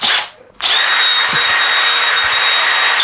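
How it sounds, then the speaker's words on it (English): A cordless brushless hammer drill runs in drilling mode at speed 2 on a 5 amp hour battery, starting with a short burst, dropping briefly, then spinning up to a loud, steady high-pitched whine held close by. "We're going to be running, obviously we're going to be running this on drilling mode all the time."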